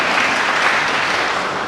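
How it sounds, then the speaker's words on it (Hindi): A crowd at a political conference claps loudly and steadily in a dense, continuous burst of applause to welcome a guest, with no voices over it. "जोरदार तालियों से स्वागत किया जाए"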